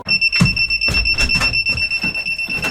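Electronic fishing bite alarm beeping at night at a lakeside carp swim, a rapid run of short, loud, regular pulses with two steady high tones running through.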